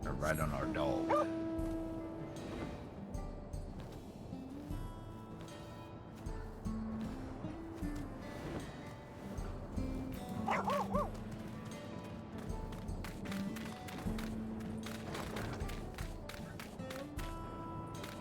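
Dog barks and whimpers from the game Final Fantasy XIV, short yips and cries recurring over steady game music and ambience, moderately loud.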